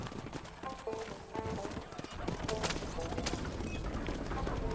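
Horse hooves clip-clop steadily with a brief whinny in the video game Red Dead Redemption, set against busy background sound and a voice talking over it.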